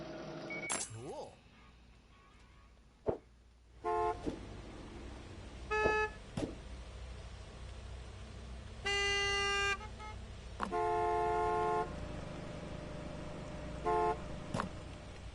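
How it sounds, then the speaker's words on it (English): Car horns honk at a Gas Station Simulator game station: several separate short and longer toots at irregular intervals, steady and fairly loud, over a low traffic hum. "Why are people honking?"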